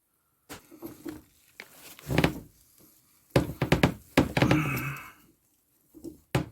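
An unexplained knocking comes from the rear of a UAZ Patriot: irregular hollow thuds and clunks in short bursts, some single and some clustered, separated by near silence.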